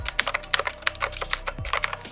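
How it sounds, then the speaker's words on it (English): Rapid, uneven clicking of keys on an E-YOOSO K600 retro mechanical keyboard, with sharp close strikes and a few heavier thocks, typed alone with no talk. "Retro, retro style, retro clicking keys."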